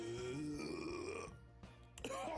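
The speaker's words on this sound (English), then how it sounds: "Buddy suddenly burps so loud and long" A loud, long burp, drawn out with a wavering tone for over a second before trailing off into a few brief sputters.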